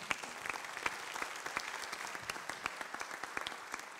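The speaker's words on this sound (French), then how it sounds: "Je pense qu'on peut applaudir." Audience applause at a conference's closing keynote: a steady, moderately quiet patter of many hands clapping for about four seconds, with crisp individual claps standing out.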